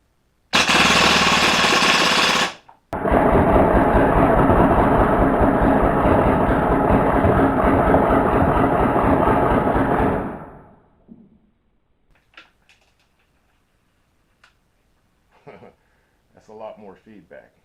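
An MP7 or MP9 gas blowback airsoft gun fires on full auto in two rapid, loud bursts, a short one then a long one of about seven seconds, followed by quiet handling clicks and faint rustling.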